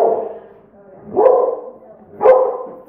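Two loud dog barks, about a second apart, at a veterinary clinic, each fading into a whimpering tail, with a faint room murmur between them.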